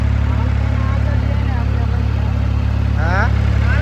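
An International tractor engine runs at night with a steady low droning rumble, loud and constant throughout, while someone talks over it.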